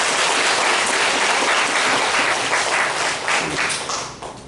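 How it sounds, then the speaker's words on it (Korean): Applause from a church congregation at a Sunday service, steady and dense throughout, tapering slightly near the end. "한정인 식구님의 아름다운 가정을 더 잘 가꿔갈 수 있도록 응원과 격려의 박수를 부탁드리겠습니다"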